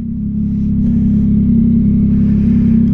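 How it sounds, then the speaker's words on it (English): A 2022 Yamaha XSR900 motorcycle with a Kelpi Custom Moto shorty exhaust drones steadily at a low, throaty pitch, close and sustained without any speech. "I haven't had a loud exhaust in so long, bro."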